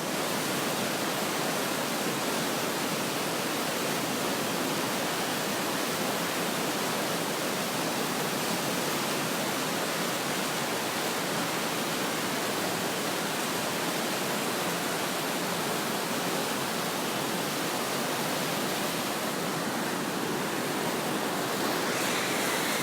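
Düden Waterfall pours beside sea cliffs, a dense, continuous roar of rushing water that stays loud and even from start to finish with no voices.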